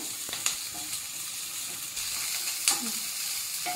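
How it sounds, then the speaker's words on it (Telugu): Capsicum sizzling in a pan for a paneer-mushroom bowl gives a steady frying hiss with a few sharp clicks and clanks of utensils, and no talking. "సో క్యాప్సికమ్ కొంచెం ఫ్రై అవనిద్దాం"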